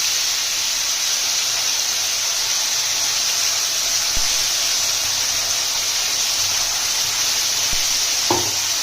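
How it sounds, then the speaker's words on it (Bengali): Spice paste of tomato, ginger, garlic and onion frying in oil with bay leaf, cinnamon and cardamom, a steady bright sizzle and hiss throughout, with a few clicks of stirring near the end. "ভালোভাবে তেল ছাড়া অবধি মশলাটা কষিয়ে নেবো"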